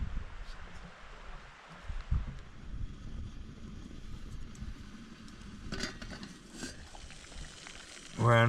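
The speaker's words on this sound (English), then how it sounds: "We're on our second minute of boiling." Water simmers and bubbles in a pot over a small twig-fueled camp stove outdoors, a soft steady rustle with light wind noise and a few brief clanks.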